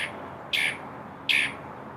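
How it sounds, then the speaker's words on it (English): A bird gives two sharp, high squawking calls, evenly spaced about a second apart, fairly close and clear over a quiet background. "A bird agrees with that."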